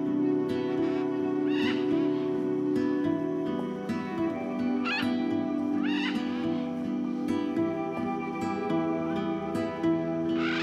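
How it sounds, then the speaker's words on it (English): Macaws calling in a sinkhole refuge in Brazil, several loud harsh screeches spaced every second or two over a steady background of other birdsong and ambience. "Love is in the air, and so are their piercing calls."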